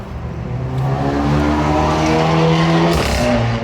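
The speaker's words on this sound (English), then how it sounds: "You just did a burnout." A V10-powered car spins its tires in a burnout, engine roaring at high revs with a sustained squeal of rubber, loud and close, rising in pitch before a brief dip near the end.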